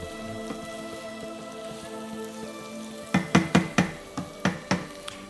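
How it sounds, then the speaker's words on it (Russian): Buckwheat with mushrooms, carrot, onion and garlic frying in a pan: a soft steady sizzle, then a run of sharp knocking taps from stirring against the pan in the last couple of seconds, close and clear, with no speech. "Перемешаем гречку с грибами, морковкой, луком, чесноком. Гречке тоже необходимо слегка обжариться."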